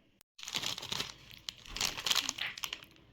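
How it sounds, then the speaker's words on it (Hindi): A snack chips packet is crinkled and torn open up close, the plastic giving crisp rustles and a ripping, crackling run after a brief near-silent start, with no talking. "ये 5 रुपये वाला चिप्स है, क्वान्टिटी ज़्यादा लग रही है ना? इसको फाड़ के देखे क्या? मेरे को फाड़ते हैं।"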